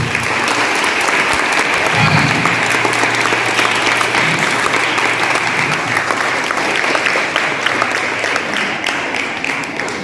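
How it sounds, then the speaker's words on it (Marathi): Loud, sustained applause from a school audience at a Shivaji Maharaj Jayanti celebration, dense clapping filling the whole stretch with a faint voice briefly underneath. "यासाठी जोरदार टाळ्या झाल्या पाहिजे"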